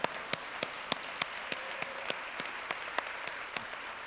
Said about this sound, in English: I think I deserve some applause.